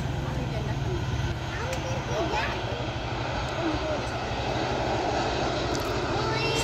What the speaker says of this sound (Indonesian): Ini ada satu pesawat yang mau landing.